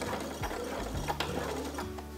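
A sewing machine with its presser foot lowered stitches over a fabric strap, a quick steady mechanical whirr with rapid needle ticks, close and alone.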